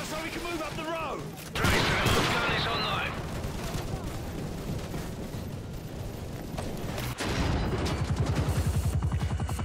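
Dense gunfire from a Modern Warfare 3 firefight: bursts of automatic shots and heavy blasts, loud and continuous, with game voices calling out over the shooting.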